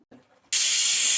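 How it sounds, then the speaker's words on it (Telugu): A pressure cooker whistle bursts into a loud, sustained steam hiss after a moment of faint clatter, with potatoes cooking inside, and the hiss continues at full strength. "ఆరు విజిల్స్ వచ్చేసాయండి"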